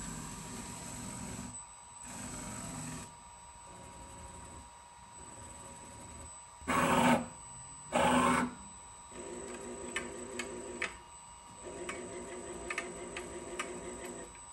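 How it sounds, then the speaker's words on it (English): A servo-driven DIY fiber laser tube cutting machine moves in short runs: steady ticking and whirring, two louder buzzy bursts of motion, then repeated mechanical pulses against a faint electrical hum. "Pretty cool to see first movements with the machine."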